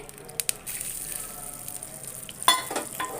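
A spoon is stirred steadily through ghee, milk and milk powder in a pan as homemade khoya thickens, giving a quiet sizzle with soft scraping and a couple of sharper clinks.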